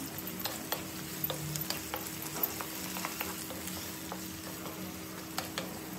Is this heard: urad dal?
yes